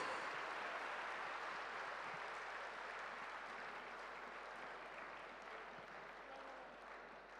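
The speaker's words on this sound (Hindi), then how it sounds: "तालियां रुकनी नहीं चाहिए guys." Steady clapping from an audience at a felicitation ceremony for the ICAI president, a continuous wash of applause that holds moderately loud throughout and slowly tapers toward the end.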